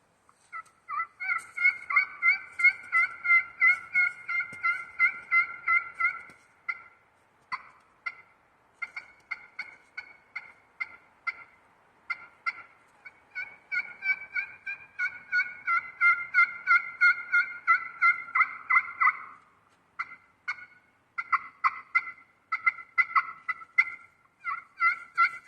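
A hand-turned turkey pot call with a maple tip striker produces long runs of rapid, high yelping clucks, moderately loud and close, with short pauses between series and no voices.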